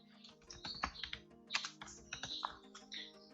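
Someone types on a computer keyboard in a steady run of soft clicking keystrokes, close but quiet, with no talk over it.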